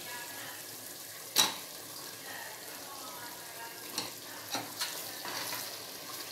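Mushrooms are stirred into a simmering masala paste for biryani, giving a soft, steady sizzle with a few sharp spoon-against-pan knocks scattered throughout, fairly quiet and close.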